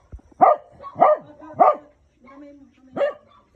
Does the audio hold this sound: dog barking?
yes